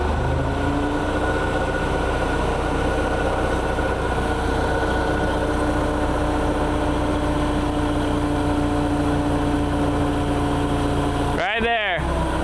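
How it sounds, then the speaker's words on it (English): A 35 Caterpillar forklift engine idles steadily and loudly close by, a constant droning hum that runs the whole time, broken near the end by a short sweeping mechanical whine. "He's gonna be driving the 35 Caterpillar forklift."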